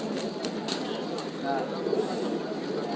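Pigeons for sale at the Tongi pigeon market in Bangladesh, with soft cooing and a brief wing flutter rising over a busy, noisy crowd background.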